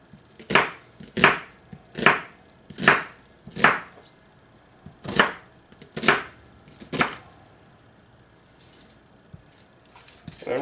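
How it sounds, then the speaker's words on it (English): A knife chops lots of vegetables for chicken and dumplings tortilla soup: eight sharp, crisp strikes on a cutting board, close and loud, arriving in an uneven rhythm with short pauses before a quieter stretch at the end. "I'm chopping lots of vegetables"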